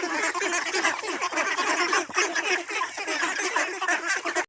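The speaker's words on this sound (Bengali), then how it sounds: "আমাদের একটি ছোটোখাটো খামার করা হয়েছে বাড়িতে হাঁসের" Ducks on a small home duck farm keep up a dense, continuous chatter of quacks and calls, close by and fairly loud, with many birds overlapping.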